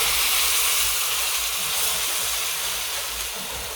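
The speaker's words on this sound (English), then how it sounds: "That sizzling sound. Wait for it to sear, then add water." Water poured into a hot pan of seared marinated meat, giving a loud steady hiss and sizzle that fills the whole stretch, fading slightly toward the end.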